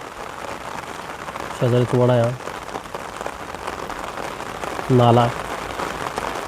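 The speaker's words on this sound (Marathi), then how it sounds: "सकाळपासून जोरदार पाऊस चालू आहे" Heavy rain falls steadily in Nashik district, a continuous dense wash of noise throughout, broken twice by someone speaking briefly over it.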